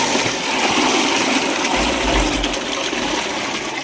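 Water released into a home supply runs in a steady, loud, continuous gush, with no voices.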